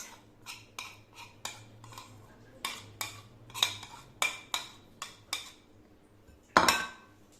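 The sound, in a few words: mixing carrot and cheese in a bowl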